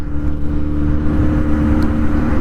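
A Kawasaki Z90 motorcycle engine drones loud and close while being ridden, a steady humming rev that holds its pitch throughout.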